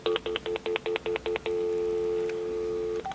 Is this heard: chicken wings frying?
no